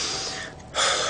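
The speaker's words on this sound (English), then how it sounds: "See, I'm out of breath." A runner who is out of breath after running gives quick, heavy breaths, a harsh gasping inhale and exhale close to the mic, with a brief dip between two loud breaths and no talking.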